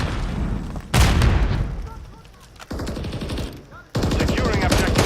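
A Semtex grenade blast and bursts of gunfire in a multiplayer shooter video game, loud booming impacts and rapid shots in several sharp bursts separated by short lulls.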